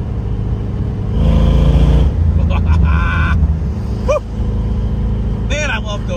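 A 1989 Ford Mustang GT driving down the road, its engine rumbling loudly from inside the cabin and swelling as it accelerates, with a voice talking and brief squeaks over the drone.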